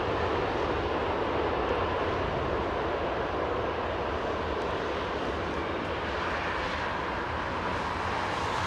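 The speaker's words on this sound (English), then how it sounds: "Nice little blast of reverser there." Airliner thrust reversers roar after landing at Heathrow, a sustained broadband blast that holds steady and loud through the whole stretch with no talk over it.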